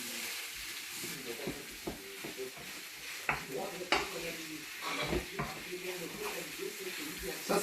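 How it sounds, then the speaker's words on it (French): A chicken mixture for mssemen filling frying in a pan while being stirred, steady close sizzle with repeated scraping and knocking of a spoon against the pan, and a voice faintly present underneath. "Voilà, je mélange."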